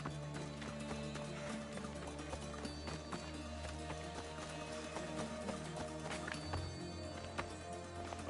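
Horse hooves clip-clopping in a video game, with a steady run of hoofbeats under layered game music and ambience, fairly faint in the mix.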